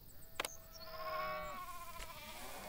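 Sheep bleating in the farm simulation game Farm Manager 2021, a wavering drawn-out bleat rising and falling over about two seconds, with a couple of short clicks, fairly quiet with no talking.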